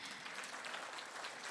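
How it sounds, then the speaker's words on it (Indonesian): Audience applause at a product seminar, a steady wash of many hands clapping together without any single clapper standing out, quite faint and distant, running the full short moment with no voices over it. "silahkan tepuk tangan"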